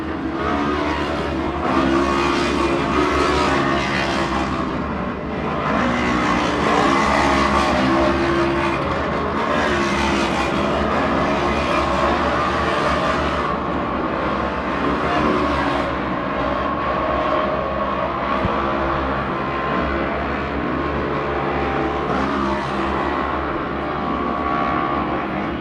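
Race cars roar continuously around a circuit during a Sunday afternoon round, engines loud and sustained with rising and falling revs as they pass, with brief tire squeal, no voices.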